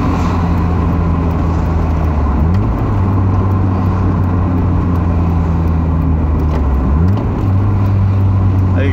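A Mazda Miata engine drones steadily from inside the cabin while cruising, rising in pitch with two quick rev-matched blips during downshifts, one near the middle and another later.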